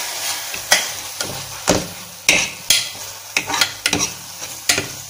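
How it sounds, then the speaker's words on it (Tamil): Masala is stirred and fried in hot oil in a pan, with a sizzling bed broken by about a dozen sharp scraping strokes of the spoon at an uneven rhythm, close and loud, with no talking. "ஸோ இப்போ இந்த மசாலாவோட பச்சை வாசனை வந்து போகிற அளவுக்கு ஒரு 1-2 நிமிஷம் நல்லா வதக்கிக்கலாம்."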